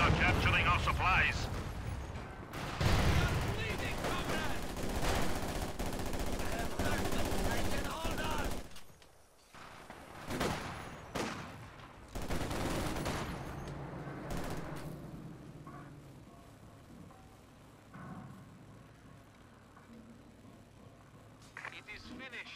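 Machine-gun and artillery fire in the real-time strategy game Company of Heroes 2, a loud dense barrage of bursts and booms early on that thins into scattered, quieter shots, with a commentator talking over it.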